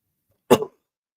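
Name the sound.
coughing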